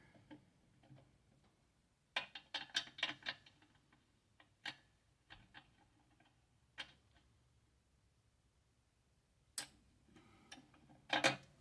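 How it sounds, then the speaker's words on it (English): Line wrench working a fuel line fitting on a 1961 Cadillac Coupe DeVille, faint metallic clicks and ratcheting taps in short scattered bursts with quiet gaps between. "I got a 9/16 and a 1/2 inch line wrench. Let's see if we can get this off of here."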